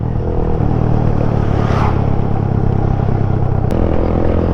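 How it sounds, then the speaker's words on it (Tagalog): Unsilenced exhaust of a China-made motorcycle roars loudly and steadily at close range on a long ride, a continuous broadband drone with wind rush and a brief sharp click near the end. "Pagpasensyahan nyo na kung medyo maingay yung exhaust ko. Hindi ko na ilagay yung silencer nya."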